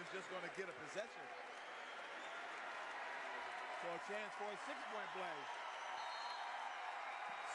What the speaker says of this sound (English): Senior night applause right there.